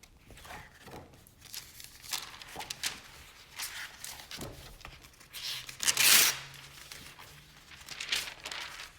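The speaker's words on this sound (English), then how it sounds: "I took a piece of tracing paper" A sheet of tracing paper rustles and crinkles as it is handled for finishing a stitched ribbon edge ornament, with soft scattered crackles and one louder crisp crumple midway.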